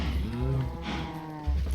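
A cow from a cow spawner in the Minecraft FTB Ultimate Reloaded modpack lets out a long, loud, close moo, followed by a second shorter low call near the end.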